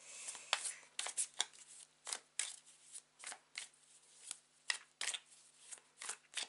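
Tarot cards are shuffled by hand in a quiet room, giving a string of crisp riffling bursts and soft flicks in an uneven rhythm, close and fairly faint.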